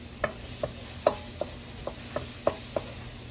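Chicken browns in a frying pan for pansit bihon, a steady soft sizzle broken by about eight light, evenly spaced clicks of a utensil stirring against the pan.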